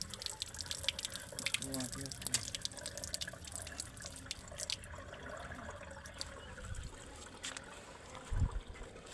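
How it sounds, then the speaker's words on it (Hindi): Water poured into a container to fill it for treating chickens with a fungal illness, a steady splashing, trickling stream heard up close over background noise, with a brief louder splash near the end. "अब ये पानी डाल लिया मैंने फुल"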